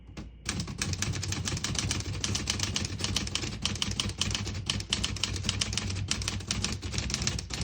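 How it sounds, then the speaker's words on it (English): A 1964 Olivetti Lettera 32 manual portable typewriter typing a line: a fast, steady stream of crisp metallic key strikes close by, with no voices. "As you can see, all the keys type nice and none of them skip or stick."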